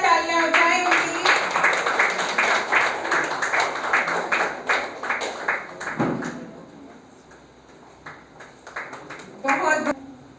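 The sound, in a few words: applause, clapping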